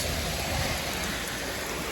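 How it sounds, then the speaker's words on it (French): Steady rain falls outdoors along a walking route, a dense even hiss of drops with no pauses, moderately loud and without voices. "Il pleut"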